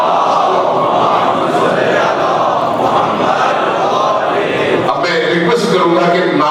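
A large crowd at a Shia majlis mourning gathering chants slogans in unison, a loud, dense roar that keeps up throughout with a sharper burst near the end.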